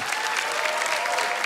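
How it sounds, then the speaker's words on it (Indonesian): A live studio audience at a televised grilling competition claps steadily, dense and even applause filling the room from start to finish. "Tepukan untuk Nanda by Sarimah."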